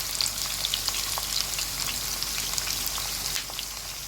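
Carrots fry in a pan as part of cooking kantong noodles, giving a steady, close hiss of sizzling oil with scattered small pops and crackles that carries on throughout.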